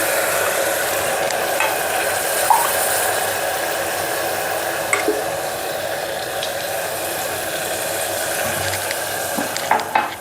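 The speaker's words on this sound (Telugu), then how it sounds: "ఇది రెండు గ్లాసులు నీళ్ళు పోస్తున్నాను దీనిలోకి" Two glasses of water poured into a pot of roasted fenugreek lentils, giving a steady, fairly loud sizzling hiss that holds evenly throughout, with a few small clicks and no talking.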